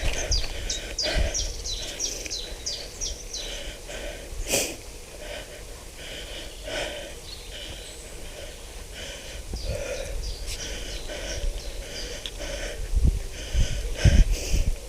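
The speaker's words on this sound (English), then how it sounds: "I hope you can hear the birds song." Small birds chirp and trill in short repeated bursts along a country road near Fountains Abbey and Ripon in North Yorkshire, moderately close, over breathy wind and occasional rumbling bumps.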